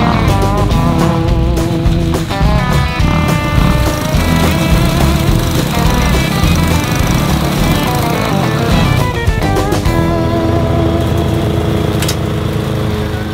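Dirt bike engine rigged to mow a lawn, a loud, continuous revving buzz with shifting pitch and rattling mechanical clatter, close and unbroken for the whole stretch.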